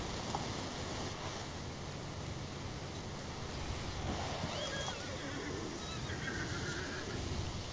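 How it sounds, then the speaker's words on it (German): A horse whinnies in the game Hunt: Showdown, a faint, thin neigh under constant loud ambient noise and rumble with no talking. "Pferdchen."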